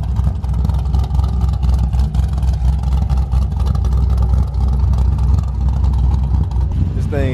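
Mazda RX-8 race car rotary engine droning steadily and loudly at a fairly constant pitch throughout, heard up close with a slight rise in tone at the very end.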